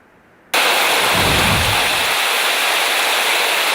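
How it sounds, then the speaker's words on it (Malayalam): Heavy rain in Kozhikode and Malappuram, Kerala, begins suddenly and pours in a dense, loud, steady hiss, with a low rumble beneath it for the first moments. "യെല്ലോ അലർട്ട് പ്രഖ്യാപിച്ച കോഴിക്കോടും മലപ്പുറത്തുമൊക്കെ ശക്തമായ മഴ തുടരുകയാണ്"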